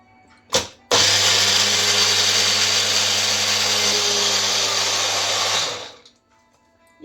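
A blender crushing ingredients for a summer drink, starting with a short pulse, then running in one loud, steady whirring burst for about five seconds before winding down to a stop.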